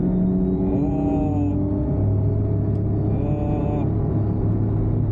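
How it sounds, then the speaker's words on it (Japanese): A Daihatsu Canbus kei car pulls away from a traffic light with its power mode engaged. The engine drone rises in pitch as it accelerates, heard loud from inside the cabin over a low road rumble. "パワーボタンを押すことによって、今みたいなね、発進加速でもね、ブーンとこういける"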